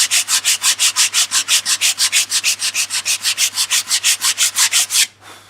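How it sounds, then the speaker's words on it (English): Wood is hand-sanded with 180 grit sandpaper on a small dovetailed box, in quick, even back-and-forth strokes, about five per second, loud and close, ending abruptly with no talking. "When you start sanding, I'm using 180 here."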